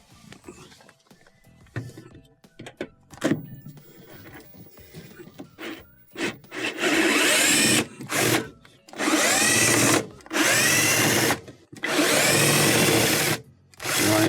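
Power driver spinning out bolts from a Whirlpool washing machine's stator, heard as several loud bursts of whirring at close range, each lasting a second or two and separated by short pauses, after quieter handling clatter.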